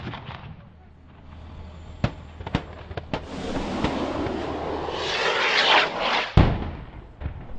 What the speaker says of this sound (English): A rocket strike was then called in to take out what was believed to be the ISIS fighters' positions.